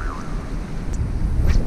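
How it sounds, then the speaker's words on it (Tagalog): Strong wind roars steadily against the microphone on the coast at Bobon, Northern Samar, with a low rumble of big waves beneath, continuous and loud throughout. "Sobrang hangin mga ka-friends"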